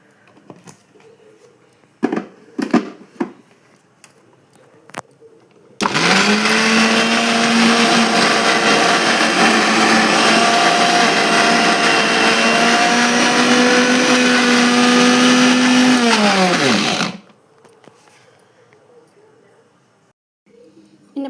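A mixer grinder whirs loud and steady for about eleven seconds, grinding urad dal with garlic, chilli powder and salt, with brief clinks and handling noise before it starts and after it stops.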